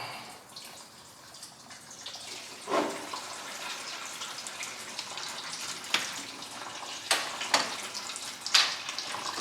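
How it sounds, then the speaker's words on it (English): Coolant draining from a 1999 Honda Civic engine into a drain pan: a steady close trickle and splash of liquid with a few sharper drips and splatters, no talk. "And there come your coolant."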